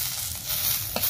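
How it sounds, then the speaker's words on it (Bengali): Dried fish frying with chillies in a pan, a steady close sizzle with scraping stir strokes and one sharper clack near the end. "শুটকি মাছটা আগে ভেজে নিয়েছিলাম, তারপরে আবারও সে মরিচের সঙ্গে আর একটু নাড়াচাড়া করে ভেজে নেব।"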